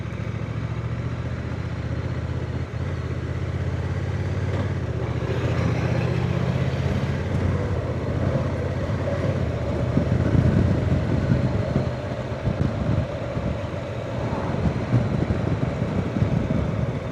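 A Honda NT1100 motorcycle engine drones steadily throughout while riding, with a low rumbling hum that rises slightly midway and wind noise around it.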